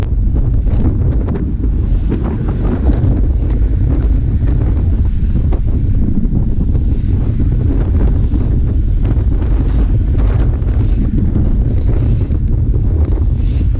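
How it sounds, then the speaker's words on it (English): Heavy wind roars and buffets the microphone during a group cycling ride heading north on a cold 4C day, a loud, constant rushing with no voices. "You can hear the wind. I mean, it's blowing."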